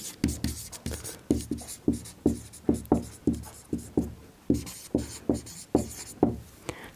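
Chalk or marker strokes on a board during a chemistry lecture, making a quick run of sharp tapping scrapes in an uneven rhythm, close and clear, with a few faint spoken words between strokes.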